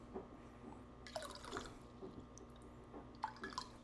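Filtered cold water straight from the fridge pours in soft, intermittent splashes and drips, quiet and close, with a few brighter trickles rising and fading.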